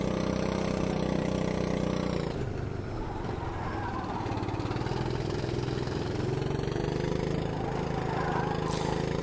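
A rental car engine in the racing game Automobilista 2 drones and strains uphill at steady revs, a buzzy mower-like tone that drops briefly then climbs again, loud and continuous with no talking.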